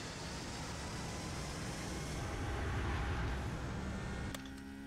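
Embraer E195 jet engines at full throttle in X-Plane 11 give a steady, broad, moderately faint roar that holds evenly, then drops slightly just before the end.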